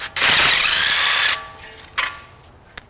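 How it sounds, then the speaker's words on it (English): A power tool spins out a camber arm bolt on a Tesla Model X, one loud steady whir of about a second, then two short sharp bursts with a quieter tail after it. "then you can start using power tools to take the rest of it off"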